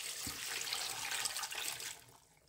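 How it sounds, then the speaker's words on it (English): Water pours steadily into a pot of meat seasoned with rosemary, seasoning powder and salt for a Nigerian assorted meat stew, a continuous close splashing stream lasting about two seconds before tapering off. "Then I will add some water."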